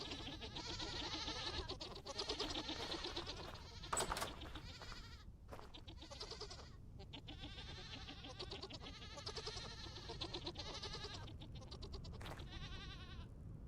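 Goats in the Vintage Story survival game bleat again and again, several animals calling in overlapping bursts at a steady loudness, one sharper cry standing out near the middle, with no voices.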